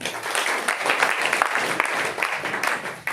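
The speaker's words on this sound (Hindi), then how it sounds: "चलो ताली बजा दो सारे।" An audience claps together at a spiritual teaching session, a dense, steady patter of many hands filling the room at moderate loudness with no voice over it.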